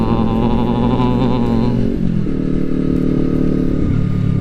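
A Honda CBR250RR with throttle-by-wire rides on a smooth road, its engine droning steadily with a gear change or throttle dip midway, close and continuous with wind noise.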